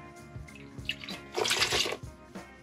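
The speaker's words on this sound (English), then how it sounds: "Got our apple cider vinegar. Drop an entire cup of that in here." Apple cider vinegar, a full cup, poured into a pot while making cowboy candy with jalapenos and Hungarian hot peppers; a close, steady liquid splash that swells mid-pour and then eases off, with no talking.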